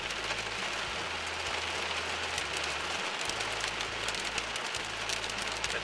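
Dense, continuous pattering and clicking of hail striking a hard surface, steady and close, with a low engine drone beneath.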